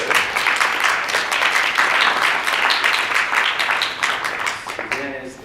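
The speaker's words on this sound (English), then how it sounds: "thank you for the applause for both of them" An audience at an ethics symposium's opening remarks bursts into dense, sustained applause that fills the room, then thins out and fades near the end.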